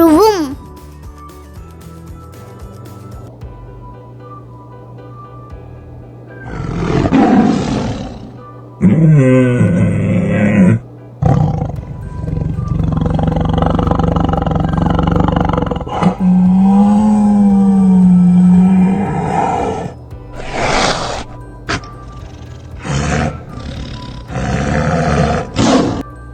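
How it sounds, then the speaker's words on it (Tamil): A tiger roaring, several loud drawn-out growling roars with gaps between them, heard alongside a voice speaking. "புலி உருமும்."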